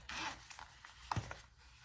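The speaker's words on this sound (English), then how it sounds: "So I just open up my zippers," Zippers open on a sewn crossbody bag, giving a couple of short, close, quiet zipping rasps with small clicks between them and no voices.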